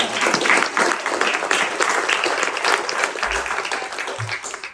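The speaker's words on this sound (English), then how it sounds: "Give her a round of applause" Audience applause at a grand opening event, a dense, steady wash of clapping that holds for several seconds and slowly thins, fairly close and moderately loud, with no voice over it.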